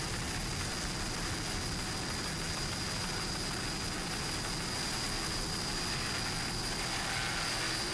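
A 38-foot Fountain powerboat called What's Up roars on its racing engines in an offshore race off Ocean City, a steady, loud, unbroken engine drone that carries through the whole stretch.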